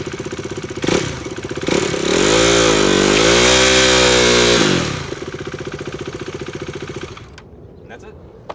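A motorcycle held on the front brake spins its rear tyre in a burnout, the engine revving hard and sustained for a few seconds before dropping back to a steady idle, loud and close.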